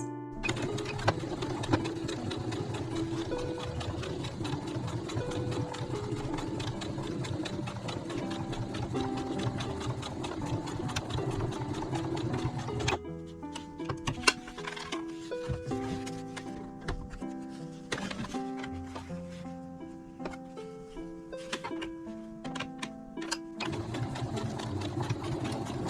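A sewing machine stitches a zipper onto a fabric pouch, running in a steady rapid whir for long stretches, then stopping and starting in shorter bursts, close and clear with no talk.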